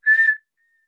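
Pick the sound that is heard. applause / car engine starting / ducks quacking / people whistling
people whistling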